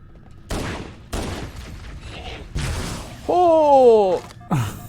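Several sharp gunfire bursts in Halo CE Anniversary, spaced about half a second apart, with a voice groaning between shots and a tonal cry near the end.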